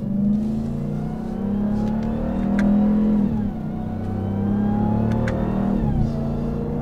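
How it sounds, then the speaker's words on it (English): A Ram 1500 TRX pickup's supercharged Hellcat V8 revs and pulls through gear shifts, a loud, steady engine drone with supercharger whine rising and dipping twice over several seconds, heard from inside the cabin. "There's just nothing like that supercharger sound. It is so unique to the Hellcat engines."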